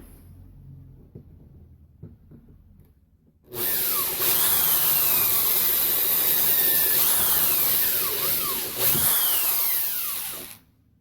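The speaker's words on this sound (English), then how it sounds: "Let's drill the lubrication holes in these 3 shaft tubes." A loud power drill with a 2.5 mm bit runs steadily for about seven seconds, its pitch wavering as it bites into metal shaft tubes, after a few seconds of quiet handling.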